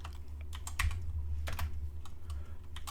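Computer keyboard keys pressed in quick, irregular bursts while working in the ARMA Reforger Workbench editor, close and fairly quiet over a steady low hum, with no talking.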